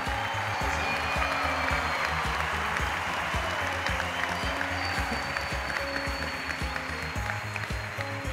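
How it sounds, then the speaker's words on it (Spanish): An audience at a talent show final applauds in sustained, dense clapping that stays steady and fairly loud throughout, with no voices standing out above it. "Extendemos el aplauso para el presidente del jurado"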